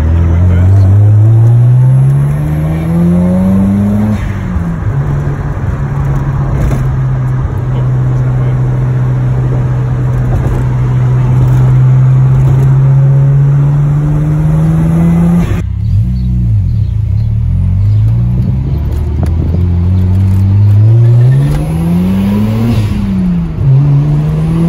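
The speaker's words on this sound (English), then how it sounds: "First time driving a rotary or an RX-7" Mazda RX-7 with a rotary engine driving and revving hard, loud and close, with rising and falling engine pitch through gear changes and a brief lift off the throttle near the middle.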